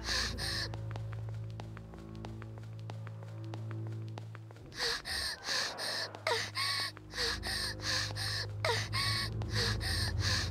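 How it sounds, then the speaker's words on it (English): A girl's rapid, breathy panting in the horror game Corpse Party 2, loud and close, in short rhythmic bursts over a low, droning musical background. "Why is she moaning? She's panting."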